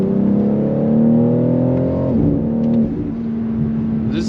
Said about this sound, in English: let's give it full throttle on this beautiful road here